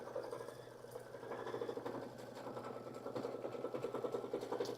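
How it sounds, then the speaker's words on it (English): An embroidery sewing machine stitches black thread for a United States Navy design with an inner circle and anchors, giving a steady, fast mechanical whirring and ticking that holds at a constant level throughout, with no talking. "we're stitching out the black, so that will be the United States Navy, an inner circle"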